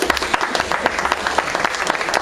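Audience applause at a coffee house show in San Diego, a short burst of close, dense clapping from a small crowd that carries steadily through without fading.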